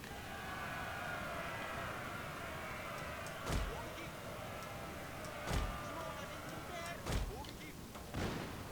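Blunderbuss cavalry volleys in Total War: Shogun 2, four separate booming shots spaced a couple of seconds apart over a steady hum of battle ambience and music, moderately loud.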